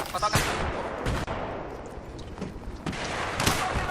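G3A3 battle rifle firing in Battlefield 3: sharp, loud single shots spaced irregularly at a slow rate, with a few clustered cracks and mechanical clatter between them.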